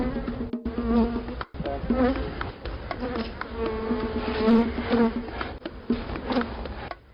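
Honeybees buzz in a dense, close swarm of overlapping droning hums that rise and fall continuously, with no other sound over them.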